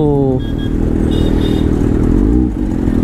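2024 Kawasaki ZX-6R motorcycle with a modified exhaust, a loud close engine rumble with a rising rev and a short drop near the end, with a voice briefly audible at the start.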